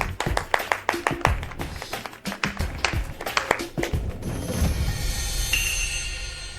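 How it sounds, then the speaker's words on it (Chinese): Sparse, uneven handclaps from a small office group welcoming a new technical lead, a scattering of separate claps that quickly thins out and fades into a low murmur of room noise. "你们稀稀拉拉的鼓掌什么意思啊？"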